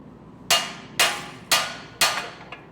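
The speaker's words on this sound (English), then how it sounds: "With some precise hammering," Four sharp, evenly spaced metal hammer strikes on a lift kit part of a RAM Power Wagon pickup truck, each a crisp bang about half a second apart, close and loud with no talk.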